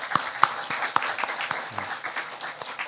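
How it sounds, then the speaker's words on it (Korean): A Korean church congregation claps at a Christmas Sunday service, a modest, somewhat sparse round of applause with a few sharp individual claps standing out, moderately quiet. "그리스도께서 오신 이 날을 함께 박수로 축하하면 좋겠습니다"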